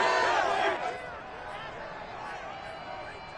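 In a Madden football video game, a broad crowd roar swells loudly at first, then eases into a steady background murmur of a stadium audience.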